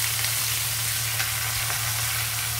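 Plain, unmarinated pork belly pan frying in its own rendering fat, a dense, steady sizzle close by with a constant hum underneath and nobody speaking.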